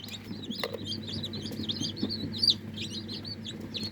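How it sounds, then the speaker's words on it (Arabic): High, rapid peeping and chirping of a chick inside an egg incubator, repeated calls over a steady low machine hum, fairly close. "انا سامعه صوت كتكوت"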